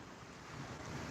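Ocean surf at night beside a beach pier gives a brief, steady, faint broadband wash with a slight windy rush and no voices.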